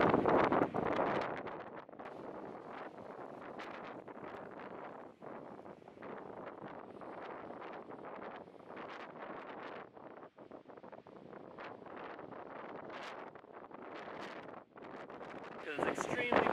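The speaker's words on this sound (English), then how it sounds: "It's extremely windy." Strong wind buffets the microphone at a pond at dawn, a loud continuous roar with gusty surges throughout.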